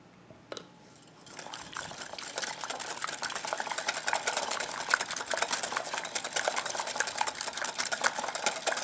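Sugar and corn syrup pecan pie filling being stirred in a bowl, a steady run of wet scraping and clinking from the spoon that starts after a brief quiet opening and keeps going close and fairly loud.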